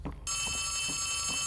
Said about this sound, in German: Ich mag das nicht, wenn Telefone klingeln.